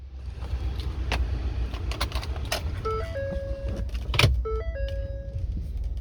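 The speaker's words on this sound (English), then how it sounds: "This is a cold start." A 2014 Ford F-150 Lariat 4WD with an EcoBoost engine sits idling after a cold start, a steady low rumble with door and key-fob chime beeps and a short whirring sweep over it.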